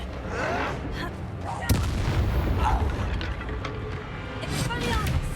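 Confringo fire spell blasting in the Hogwarts Legacy video game: a sharp explosive crack lands mid-clip amid dense, continuous rumbling combat effects, with a character voice shouting over the noise.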